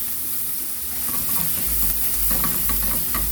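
A steak sizzles and fries in a hot pan, left untouched for two minutes of cooking, giving a steady loud hiss with scattered crackles and pops that swell midway through.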